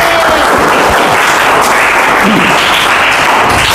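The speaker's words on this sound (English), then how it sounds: "Give applause for Rara." A speaking class of high-school students applauds a classmate called up for an ice-breaker, a loud, thick wash of many hands clapping continuously throughout, with no talking.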